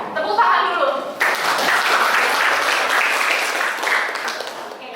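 Classroom applause as students clap together after a group presentation in a biology lesson, starting softly then swelling into a sustained burst, with a voice briefly heard at the start.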